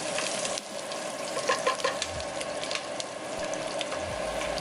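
Onion frying in a pan for a lamb curry, giving a steady broadband sizzle with scattered crackles and a few scraping stir sounds, close and moderately loud throughout.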